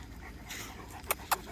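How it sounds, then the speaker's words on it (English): A big dog pants and whimpers close by, quiet breathy sounds followed by three short, sharp bursts near the end. "He's a big old dog."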